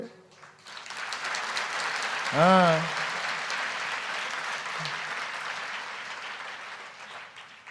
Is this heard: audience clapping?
yes